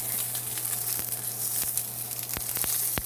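A New York steak sears fat-cap down in a hot pan, giving a loud, close, continuous sizzle with scattered sharp pops and crackles throughout.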